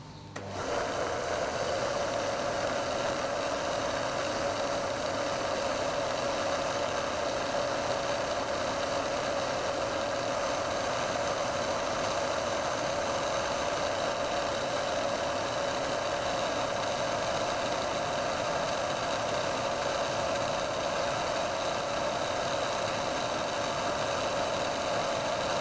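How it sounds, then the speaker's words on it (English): A milling machine cuts a slot with a 3mm carbide slot drill in a model aircraft engine part, giving a steady, unbroken mechanical whir and hum at even loudness throughout. "I'm using a 3mm carbide slot drill, and I'll just widen it out to the correct 1/8 of an inch."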